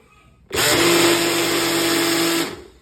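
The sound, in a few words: Abuler RY-01 personal blender running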